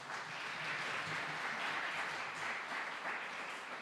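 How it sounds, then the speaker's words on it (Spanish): Church congregation applauding during an anniversary service, steady continuous clapping from a crowd, heard at a distance and fairly faint, without pauses across the whole span. "denle un aplauso al Señor por su vida."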